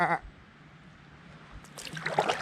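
Sheep bleat near a river during a kayaking trip along the River Ure, with one short bleat at the start and louder wavering bleats toward the end over faint background noise.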